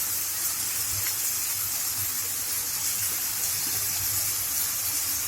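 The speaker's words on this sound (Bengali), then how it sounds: "অল্প একটু জল দিব।" A steady hiss and gush rises from a pan of cooking mutton masala as a little water is poured in, a constant close sizzle-and-steam wash with a faint low hum beneath.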